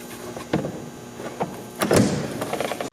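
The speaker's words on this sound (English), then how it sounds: "Remove the door panel by pulling up on it." Door panel on a 5th-gen Dodge Ram 2500 being pulled off: close plastic pops and clip snaps, with a louder crackling release near the end.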